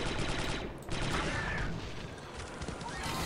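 Heavy blaster gunfire in the Star Wars Republic Commando video game rattles on steadily in a thick, noisy battle mix, loud throughout, with voices partly buried beneath it.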